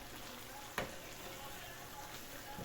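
Sautéed zucchini in a pan gives a soft, steady sizzle under a faint hiss, with one clear scrape of stirring near the start and a lighter one at the end.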